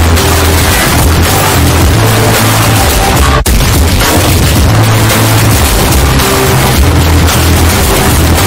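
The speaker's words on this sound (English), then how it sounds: "Eat missiles, little bitch." Missiles exploding in a cartoon scene: a continuous, very loud barrage of heavy booms and blasts fills the whole stretch with dense rumbling, and a single sharp crack cuts through midway.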